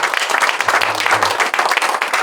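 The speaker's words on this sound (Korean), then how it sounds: "우리 박수 한번 주시겠습니다" A church congregation claps together at a pastor installation ceremony on an island, a short burst of loud, dense applause close by with faint voices underneath.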